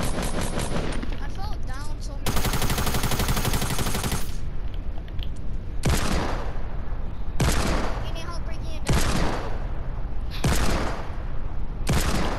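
Gunfire in a multiplayer video game comes as repeated loud bursts of rapid shots separated by short gaps, with players talking throughout.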